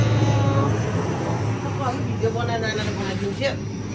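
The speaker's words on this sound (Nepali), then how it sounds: "प्लेन आउँदैछ। अब उड्यो उड्यो" A loud, steady airplane engine roar fills the scene throughout as the plane takes off, with voices talking over it.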